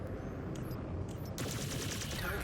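Weapon salvo from a Storm Crow mech striking the center torso of an Atlas in Mechwarrior 5 Clans: dense, continuous rattling gunfire over a steady rumble, brightening sharply partway through as the second volley lands, with no talk.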